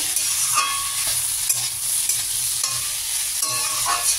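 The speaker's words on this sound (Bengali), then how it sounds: "মিশিয়ে নেব সব কিছু, ভাজবো" Vegetables are stirred and fried in a pan for a vegetarian curry, giving a continuous close sizzle broken by the scrape and clatter of a spatula at intervals.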